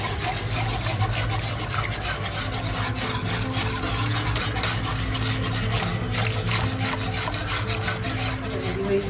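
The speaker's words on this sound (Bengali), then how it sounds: "ঘন ঘন নাড়তে হবে, নাহলে দানা বেঁধে যাবে।" Binni rice payesh stirred in a pot, a close, continuous rasping scrape of the spoon against the pot bottom, loud and unbroken throughout with no voices.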